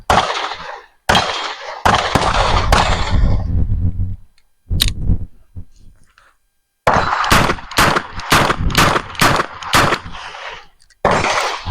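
A Smith and Wesson Model 64 revolver fires at a target range: loud, sharp shots in an uneven series, a few spaced early and then a faster burst of about six, each with a short ringing tail.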